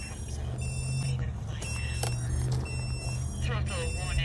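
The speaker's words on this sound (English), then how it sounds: "Here comes a Throttle warning. Ooh. Got all kinds of alarm beeps going on." A sub-250 quadcopter drone sounds its throttle warning alarm: high, thin electronic beeps and tones that repeat and overlap, close by over a constant background hum.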